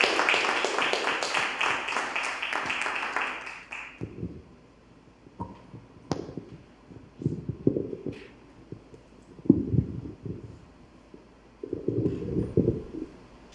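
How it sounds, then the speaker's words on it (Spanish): An audience at a panel discussion applauds three participants with loud, sustained clapping for about four seconds. Then it stops, leaving scattered thumps and light handling noises. "Y yo quiero pedirles un aplauso fuerte a nuestros 3 participantes."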